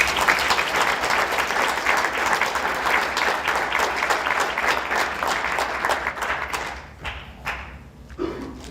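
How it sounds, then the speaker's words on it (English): Loud, sustained applause from an audience at a Board of Education business meeting, dense clapping filling the room for several seconds before thinning into scattered claps near the end. "Let's give them a big round of applause"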